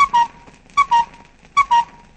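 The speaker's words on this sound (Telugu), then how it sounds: "ఎవడ నీకు విజిల్ వేస్తున్నది?" A whistling tone comes in three short paired bursts at a steady pace, the sound of a clock in a Telugu film scene, fairly close and heard on its own with no talk over it.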